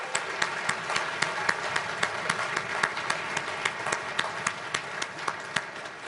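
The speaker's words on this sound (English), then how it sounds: "so please join me in a round of applause." Applause at a Sutton High School band concert, with a mass of clapping underneath and a few distinct, rhythmic claps standing out regularly on top, moderately loud throughout.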